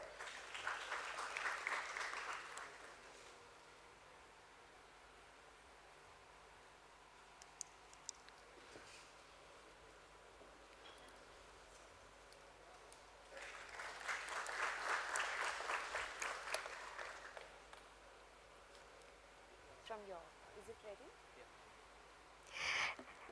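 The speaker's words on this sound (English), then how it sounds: "Can we have a round of applause for them?" An audience at a stock exchange listing ceremony for an SME company at BSE claps in two sustained rounds of applause, a few seconds each, with quieter stretches and light talk in between.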